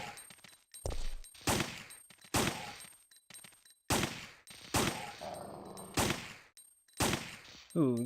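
A pistol fires in Resident Evil 3: Nemesis (1999): about eight sharp, loud shots at a steady, unhurried pace, each trailing a short echoing decay, with brief quiet gaps between them.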